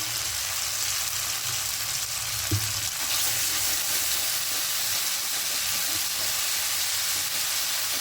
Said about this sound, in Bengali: এবার এখানে আদা রসুনের পেস্টটা দিয়ে দেবো এক চামচ মতো দেবো